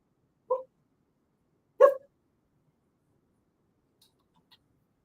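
Dog in a TV commercial gives two brief, faint barks about a second apart, heard alone against near silence.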